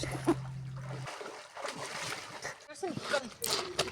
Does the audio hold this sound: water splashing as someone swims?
yes